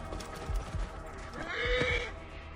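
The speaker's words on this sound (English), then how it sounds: "You are a handsome horse." A horse whinnies in Assassin's Creed Origins, with a loud, drawn-out neigh rising over hoof clops and low ambient rumble in an isolated desert setting.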